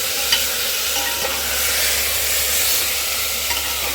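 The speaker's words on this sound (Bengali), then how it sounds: "এটাকে ভালো করে কষাবো যেমন মাংস করে" Marinated goat or chicken liver, salted and turmeric-coated, stir-frying in hot mustard oil gives a steady, close, loud sizzle with a few faint scraping stirs, no voices.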